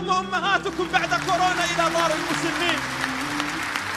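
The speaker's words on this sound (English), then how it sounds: "you're clapping" An audience claps at an Islamic lecture, a moderately loud, steady patter that runs the whole stretch, with a voice speaking over the early part.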